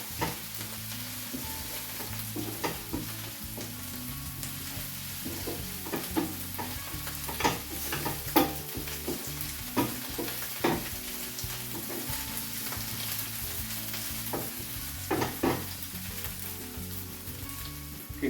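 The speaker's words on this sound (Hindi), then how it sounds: "ये लहसुन और अदरक, आधा चम्मच लहसुन, आधा टीस्पून हमने अदरक यूज़ किया। इसको अनियन के साथ हम थोड़ा फ्राई कर लेंगे।" Garlic, ginger and onion frying in a pan, a steady close sizzle with scraping stirs and clinks of a spoon running throughout, no voices.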